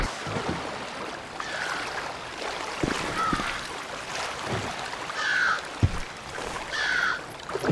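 A speedboat tears across open water in a video game: a steady loud rush of spray and hull noise with no speech.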